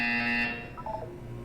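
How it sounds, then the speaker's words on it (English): A buzzer from the video game Portal 2 sounds as one loud, harsh electronic tone that cuts off abruptly after about half a second, leaving a quieter tonal hum behind it. "When you hear the buzzer, look down at the floor"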